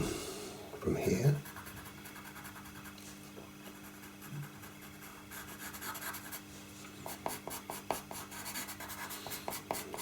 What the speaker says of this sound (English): I switch to the side of the pencil